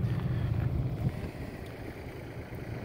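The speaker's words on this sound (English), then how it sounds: "You can see how the sump pump is running. It runs continuous." A sump pump runs continuously in a ditch at a gravel French drain installation in Bruce Township, Michigan, giving a low, steady rumbling hum mixed with outdoor wind noise, with no voices.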